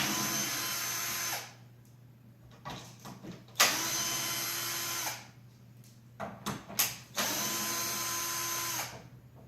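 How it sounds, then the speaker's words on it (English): Cordless drill backing screws out of an essential oil trifold rack: three separate bursts of high whine, each a second or two long, separated by clicks and handling noises. "So you take your cordless drill, you open up the first wing, and there are 3 screws here."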